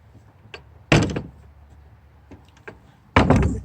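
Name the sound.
door being closed and locked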